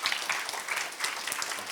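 Audience applause at a business conference session, a dense, steady patter of many hands clapping that fills the short stretch evenly without talk.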